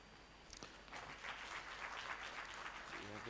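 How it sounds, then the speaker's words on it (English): Faint applause from a small group at a justice sector review meeting, clapping steadily for a few seconds, distant and low in level, with a voice briefly heard near the end. "we put a big hands applause to the presenters"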